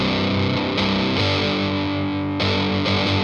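A loud, heavily distorted electric guitar chugs through a riff from a song, sustained notes shifting pitch a few times with a thick, saturated tone.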